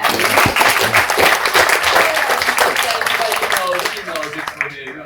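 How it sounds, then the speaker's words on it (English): A tour group claps during a Manchester United Old Trafford stadium tour: loud, steady applause mixed with crowd voices that thins out near the end. "are we gonna give him a little applause?"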